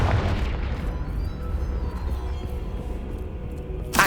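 A Confringo blasting spell goes off in Hogwarts Legacy, a deep rumbling boom that rolls on for several seconds as a dense low roar before a brighter crack near the end.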